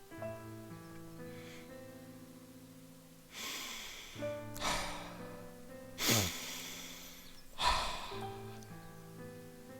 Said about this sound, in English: Before I do anything else, I should take deep a breath.